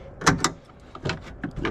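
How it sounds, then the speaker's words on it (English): A few quick plastic clicks and snaps sound up close as the door handle is disconnected from a Jeep Trackhawk door panel, in a short irregular series. "you do want to make sure you disconnect the door handle."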